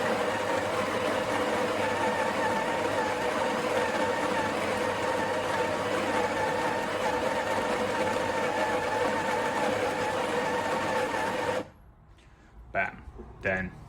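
Electric grinder whirs steadily at close range as it grinds coffee beans, a dense continuous buzz that cuts off abruptly near the end, followed by a few brief clicks and knocks.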